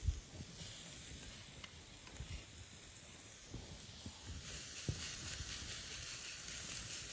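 Seasoned ground beef steak laid on a plancha griddle gives a faint, continuous sizzle with a few soft clicks and taps scattered over it.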